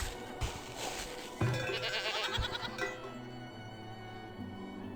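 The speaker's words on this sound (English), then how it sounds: "it seems like the goats are not going on top of these fields" Goats bleat in the farming game Farthest Frontier, several overlapping wavering calls among steady game ambience, with a sharp thud near the middle and no talking.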